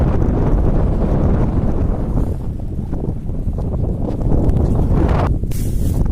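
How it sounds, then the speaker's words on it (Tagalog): Strong wind gusts roar across a microphone by the sea on an overnight fishing trip, a loud continuous buffeting that eases slightly midway and then surges again. "grabe lakas din ang hangin dito"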